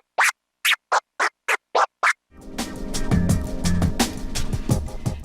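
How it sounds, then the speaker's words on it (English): Dice scratch on a DJ controller: seven short, evenly spaced record-scratch bursts, crisp and loud, then a dense run of music with a steady beat underneath. "in this video I'll teach you how to do the dice scratch, which sounds like this"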